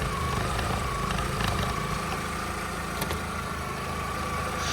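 A Skoda Octavia Tour 1.6 MPI engine idles steadily with a low, even rumble throughout, no voices.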